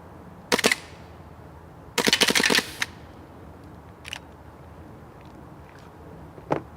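WE Warrior airsoft M1911 pistol fired rapidly to empty the magazine: a sharp double pop, then a fast rattling burst of about six shots, followed by a few isolated clicks and snaps in a quiet space.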